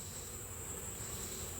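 Honeybees in an open nuc hive give off a brief, steady, quiet buzzing drone at close range during an inspection.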